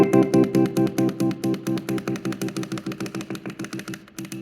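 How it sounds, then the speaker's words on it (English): A Squier Classic Vibe '60s Jazzmaster electric guitar uses its kill-switch stutter with the rhythm circuit volume down, chopping a sustained chord into fast, evenly spaced pulses that sound like a choppy tremolo and fade slightly over several seconds. "you can get your stuttering effect, which sounds like this."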